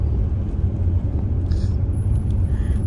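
Inside a vehicle on a mountain road toward Mt. Buller, a steady low engine and road rumble drones without a break, with a faint high whine near the end.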